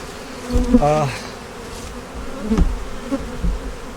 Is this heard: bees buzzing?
yes